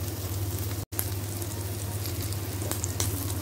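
Idli pieces fry in oil until golden brown, giving a steady, close crackling sizzle with a low hum beneath it and a brief cut to silence near the start.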